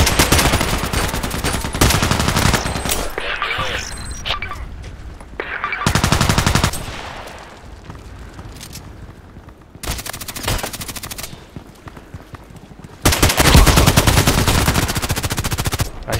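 AK-12 assault rifle firing in Contract Wars, loud rapid bursts separated by quieter gaps with game ambience, several long strings of automatic shots up close.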